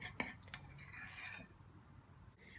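A spoon stirs a homemade hair mask mixed with half a teaspoon of vitamin E oil in a bowl: a few sharp clinks against the rim, then soft scraping swirls, close and fairly quiet.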